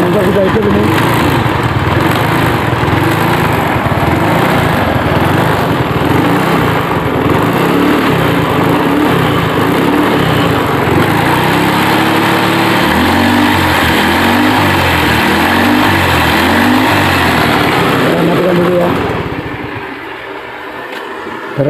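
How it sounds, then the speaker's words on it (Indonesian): A Honda Beat FI motorcycle engine runs at a steady close idle, a loud continuous putter with slight rhythmic revving in the middle, then dropping away near the end; a voice talks over it. "Ya, motor sudah hidup ini."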